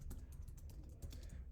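Quick, evenly spaced clicks of fingers typing on a computer keyboard, close and fairly quiet, forming a steady run of keystrokes.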